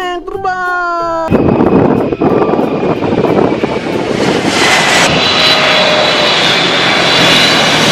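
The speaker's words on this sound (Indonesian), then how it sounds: "Wow, ini ada pesawat teman-teman." A toy airplane's tonal whine gives way to a loud, roaring airplane engine sound that holds steady and close, with a faint high whistle riding over the rumble.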